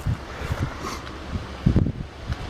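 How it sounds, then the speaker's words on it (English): Outdoor wind buffets the microphone in uneven, low rumbling gusts, with a stronger blast near the end. "Not the best day to record a video when it's windy"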